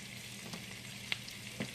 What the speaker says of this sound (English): Sizzling means it's cooking